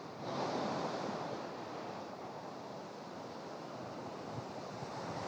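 Continuous roar of ocean surf breaking on a beach beside a campsite in Yucatan, with wind noise brushing the microphone; a steady, full wash of water close by with no talk.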